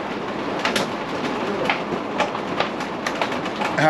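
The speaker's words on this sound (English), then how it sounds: "we got caught in the middle of a severe thunderstorm here in Hardin, Montana, and it is hailing pretty good now." Hail rattles and drums steadily on a Tiffin Allegro Bus motorhome during a severe thunderstorm in Hardin, Montana, a dense crackling patter with scattered louder impacts, no talking.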